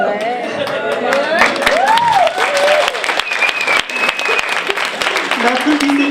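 An audience at a French stand-up comedy show claps and cheers, a loud sustained burst of applause and crowd noise while the comedian keeps talking over it.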